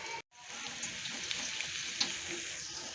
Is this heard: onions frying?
yes